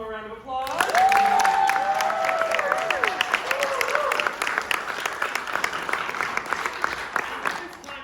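Theater audience applauding the children's cast of Snow Queen: sustained dense clapping throughout, close and steady, with a voice heard briefly over it near the start.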